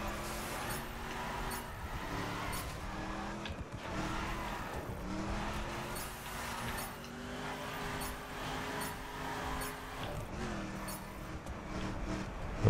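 A car drifts in The Crew Calling All Units racing game, long wavering tire squeals sliding over a steady engine drone, repeating in several drawn-out skids at moderate level with no talking.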